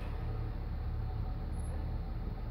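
A loud pickup-type truck rumbles steadily outside, a continuous low engine drone heard indoors with no pauses, fairly close and constant throughout.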